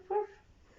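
A person's voice imitates a dog, giving one short, fairly faint bark-like yelp, followed by quiet.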